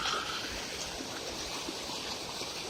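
Floodwater pours over a floodway in a steady, broad rushing roar, loud and continuous with no breaks.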